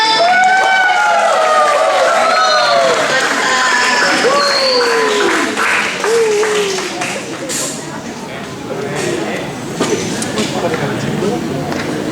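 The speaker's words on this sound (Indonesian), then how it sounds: "Tepuk tangan semuanya." Audience applause at an Indonesian event, a broad crackling burst of clapping that grows and rolls on steadily, mixed with lively voices and chatter from the crowd.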